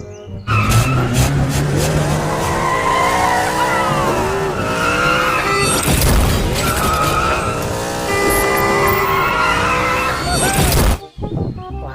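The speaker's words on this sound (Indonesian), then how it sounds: "Kalau yang ini namanya mobil balap McQueen teman-teman." A McQueen toy race car plays loud racing sound effects: a continuous engine roar with long, wavering tire squeals and skids, running for about eleven seconds before cutting off abruptly.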